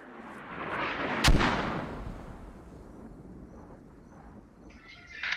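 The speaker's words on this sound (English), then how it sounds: "British mortars landing pretty close to the remainder of Clay J's fire team" Mortar shell impacts in the military shooter Squad, British mortars landing close by: a single loud, sharp blast booms out near the start, followed by a low rumbling tail and distant battlefield noise.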